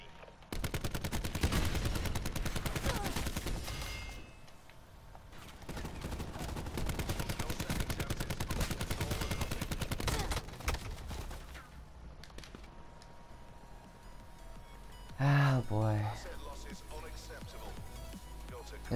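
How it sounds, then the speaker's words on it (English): Rapid automatic gunfire in the online shooter Call of Duty Black Ops 4 beta, sustained bursts in stretches with brief pauses, a sharp louder hit near the end, with someone talking over the action. "Is this guy with the fucking rapid fire gun again?"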